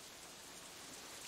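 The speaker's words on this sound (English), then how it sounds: "Instead, the rain seems to increase." Steady rain falls in the visual novel Katawa Shoujo, a soft, even hiss that stays faint and unbroken throughout, with no voices.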